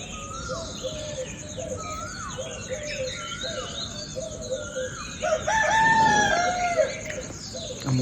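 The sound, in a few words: rooster crowing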